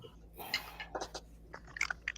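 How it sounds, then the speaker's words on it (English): Someone chews and crunches on ice close to a microphone, producing a quick series of sharp, brittle crunches and clicks. The bites come in uneven bursts and are heard without talk. "like you're crunching on ice"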